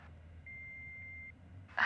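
A single steady answering-machine beep sounds at moderate level over quiet background hum for just under a second, followed by a brief burst of sound right at the end.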